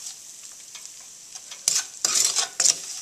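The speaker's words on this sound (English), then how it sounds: "So we're just going to mix all this up, get that real nice and happy." A spoon stirs yellow rice spice mixture with turmeric and brown sugar in a pan for South African geelrys, starting with soft scraping and then giving three louder, gritty scraping bursts close by.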